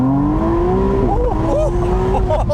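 A 2025 McLaren Artura Spider electrified supercar accelerates hard with a loud, rising engine note that climbs through the gears. The car is heard close up from inside, with people talking over the sound.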